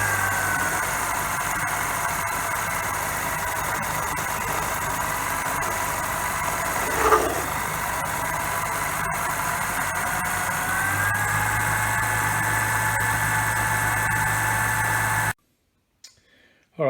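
Steady machine whir of a firing pin for a Carrero y Astelarra CYA Atlas having machining marks taken off, running continuously with a brief scrape in the middle before cutting out near the end.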